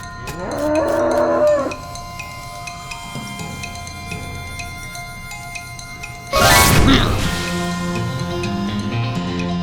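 A cow moos twice in the West of Loathing video game, a short low call and then a louder, rougher one, over a steady ringing game music bed.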